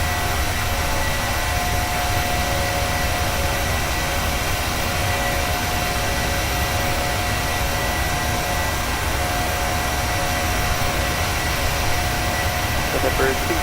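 Jet engines of a PMDG 737 climbing out of Las Vegas in Microsoft Flight Simulator hold a loud, steady roar with a whining tonal hum, continuous under occasional talk.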